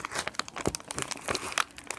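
The seal on a new Traxxas motor package is ripped open by hand, giving a quick run of close, sharp crinkling and tearing crackles with brief pauses between.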